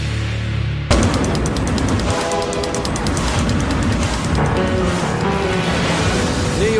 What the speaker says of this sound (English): New York is famous for its legendary subway system, with millions of passengers riding the rails 24/7 every day of the year.